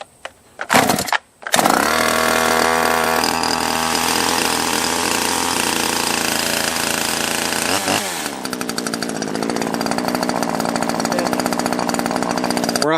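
A top handle chainsaw, Stihl, Husqvarna or Holzfforma, antique or vintage, sputters briefly, then fires up and runs at a loud, steady high rev before easing to a rougher, pulsing idle.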